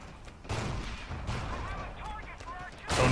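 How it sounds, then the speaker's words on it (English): Mortar fire in Forgotten Hope 2, a World War II battlefield, with several heavy booming blasts spread over a few seconds, the loudest near the end, over a rumbling battle background. "The mortar will take care of it."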